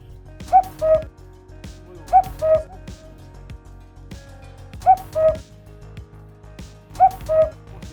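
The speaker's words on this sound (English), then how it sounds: "You will hear a cuckoo sound." A two-note electronic cuckoo call from a Dahua Wi-Fi IP security camera repeats four times at irregular intervals, clear and close, over a faint background hum.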